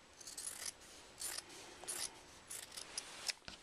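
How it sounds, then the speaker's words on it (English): Scissors trimming the bottom of a handmade wallet: a series of close, crisp snipping strokes, about seven cuts in an uneven rhythm, quiet and with no voices. "And I'll go ahead and trim this bottom part off."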